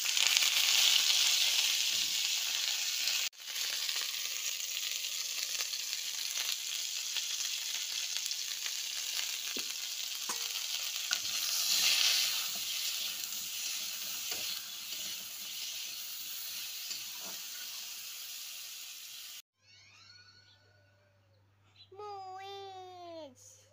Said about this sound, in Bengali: এই যে এখন শিমগুলো ভেজে নেব